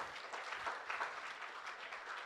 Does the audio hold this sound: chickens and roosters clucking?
no